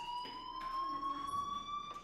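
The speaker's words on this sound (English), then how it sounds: "do you hear that fire alarm? That means you should be outside." A school fire alarm rings in the video game Life Is Strange, a steady electronic tone sounding continuously and fairly loudly, with no talk over it.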